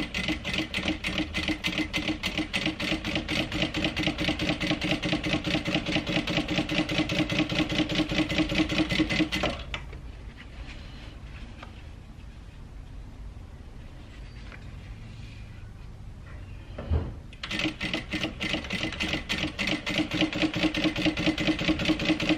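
Sewing machine stitching a handbag seam, a fast, even mechanical rattle close up that runs for about nine seconds, stops for a quiet pause, then starts again.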